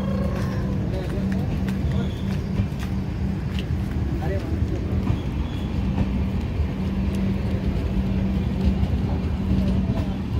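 Train noise at Murudeshwar station in Karnataka, a steady low rumble with a constant hum running throughout, broad and continuous rather than passing, with scattered clanks and a speech-like murmur mixed into the background.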